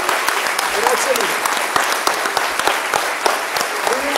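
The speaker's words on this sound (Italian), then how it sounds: "E quindi farei a loro un grande, grande applauso." A theatre audience applauds the actors of an Italian comedy, a dense, steady wash of many hands clapping with sharper individual claps standing out, loud and close throughout.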